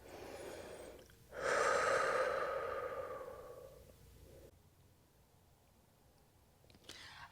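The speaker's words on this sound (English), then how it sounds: "you're breathing in through the nose and out through the mouth, regulating that breath after all that hard work" Heavy breathing during a Pilates workout cool-down, drawn in through the nose and pushed out through the mouth after hard exercise; one loud, long exhale swells then fades, followed by quieter breaths and a short sharp intake near the end.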